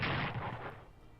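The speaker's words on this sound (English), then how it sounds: "Anti-air guns." Anti-aircraft gun fire in the Strategic Command WWII strategy game, a loud booming burst at the start whose rumble fades out over about a second, with no other sound.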